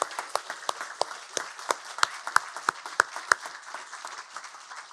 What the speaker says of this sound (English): So if we could just give them a quick round of applause.